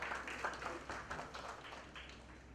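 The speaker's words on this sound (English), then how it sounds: "Welcome the huge round of applause." A crowd claps for a speaker taking the stage at a winter fashion event in Pune, a moderate, steady patter of many hands at a distance with faint voices underneath.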